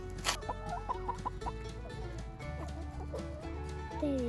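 Backyard chickens cluck and murmur as they gather to eat cockroaches from a trap, soft scattered calls close by with low background rumble and no talking.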